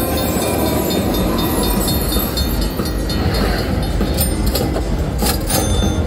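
Train sound effect from the Luxury Line slot machine bonus: a continuous loud rumbling rail clatter with rhythmic wheel clicks and some brighter metallic tones near the end, steady throughout.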